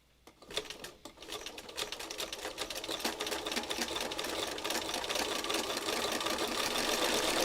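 A sewing machine stitches through a book, starting with a few hesitant clicks and then settling into a fast, even mechanical chatter that holds steady and close, with no talking.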